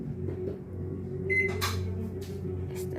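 A pink Samsung BESPOKE microwave oven hums steadily while running just after being started, with a couple of brief beeps and light clicks over the continuous drone; no talking.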